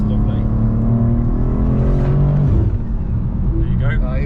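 A tuned BMW M2 G87 engine pulls hard while driving, a loud, steady low drone from inside the cabin that rises slightly in pitch and then eases near the end.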